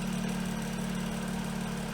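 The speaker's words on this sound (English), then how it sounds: "We now have a working radiator fan." An electric 600-watt radiator cooling fan on a BMW F30 with the N55 engine runs steadily, producing a constant droning hum with a strong low tone and broad whooshing airflow, close and unbroken.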